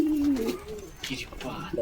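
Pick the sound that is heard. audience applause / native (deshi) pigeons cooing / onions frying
native (deshi) pigeons cooing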